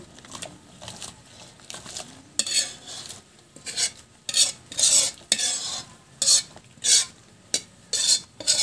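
Garlic butter shrimp cooks in a pan while a spoon stirs and scrapes it, making repeated loud rhythmic scraping strokes over a soft sizzle, close up with no talking.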